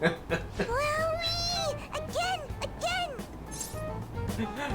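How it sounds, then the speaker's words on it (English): A stuffed toy cat in Persona 5 Royal lets out a series of high, wavering synthetic meows each time its head is pressed, several in quick succession over game background sounds. "It meows when you press on its head."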